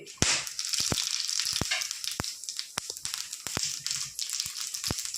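Dried red chillies, whole garam masala and cumin seeds tempering in oil released from frying fish, a bright crackling sizzle with many sharp pops and spits scattered over several seconds, close and steady.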